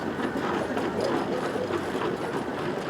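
A Fowler steam engine named Little Dawn runs at an outdoor steam gathering, giving a steady mechanical chuffing and rumble with faint clanking, close and continuous throughout.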